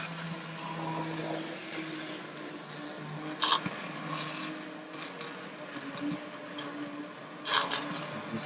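A blender purees roasted red pepper soup, giving a steady, fairly quiet motor whir with a few brief louder surges and clicks.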